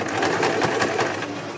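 A sewing machine stitches fabric at a fast, steady rhythmic whir, close and continuous through the short clip, during a beginners' sewing class.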